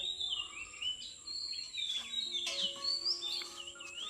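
Birds call and chirp in the morning around a village in rural Konkan after overnight rain, with thin repeated high tweets over quiet background, several birds overlapping at moderate distance.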